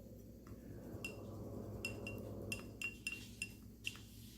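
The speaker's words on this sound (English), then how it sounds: "Let's see if I can get that all mixed together." A utensil stirring a beeswax wood finish mix for driftwood clinks and taps against its container, a handful of sharp, close ticks at an irregular pace over quiet background hiss.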